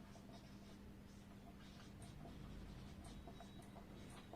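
Faint, steady scratching of a pen or marker writing on a board, soft and continuous with small taps throughout, low and close.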